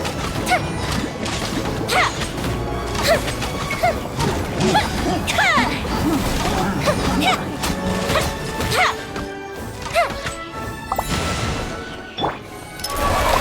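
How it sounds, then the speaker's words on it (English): Fireworks in the Genshin Impact video game: repeated crashing bursts and whooshing launches in a loud, busy sequence, with rapid cracks layered over a dense game soundscape. "Here come the fireworks!"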